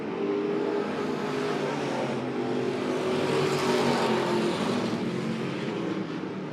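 Pure stock race cars lapping Monett Motor Speedway during a feature race, a steady loud engine roar with droning tones rising and swelling as cars pass, heard from trackside without commentary.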